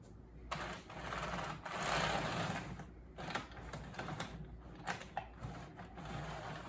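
A Mantua Mikado model electric train locomotive runs on track, giving a busy mechanical clatter and whirr with rhythmic ticks and small bursts, close up and fairly loud throughout.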